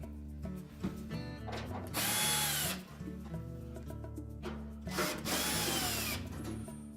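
A power drill spins out number 2 Phillips head screws from the back panel of a Whirlpool wall oven, with steady whirring and two louder high-pitched bursts as screws back out, close up and without voices.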